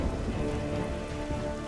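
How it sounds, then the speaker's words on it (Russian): Rain falls steadily outside, a dense, even hiss of drops that holds at a constant level throughout with no talking. "Мне нравится вот эта вот погодка, когда дождик на улице, да?"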